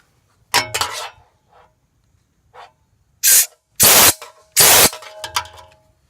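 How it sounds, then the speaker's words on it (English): A high-pressure air tank releases three loud, separate blasts of compressed air through a tire's air valve, each a sharp broadband hiss about half a second long, after a few quieter metallic clinks and handling noises. "you want to run a blast of air through here just to clean out any dirt or particles that you might have picked up off of the air valve"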